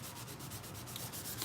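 An old helmet being sanded by hand to prepare it for primer, with steady close abrasive rubbing strokes and no voices.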